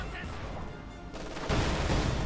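Dense, continuous gunfire and battle noise in the Company of Heroes 2 real-time strategy game. It swells louder partway through, with a commentator's voice underneath.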